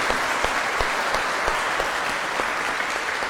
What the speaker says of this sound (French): On applaudit notre Seigneur Jésus-Christ.